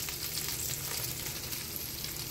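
Cabbage fries in melted butter in a pan, giving a dense, continuous sizzle and crackle that stays even and fairly close throughout, with no voices.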